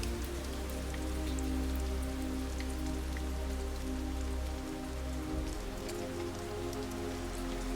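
Steady falling raindrops patter continuously on a surface, with a soft sustained musical drone underneath, no speech and an even level throughout.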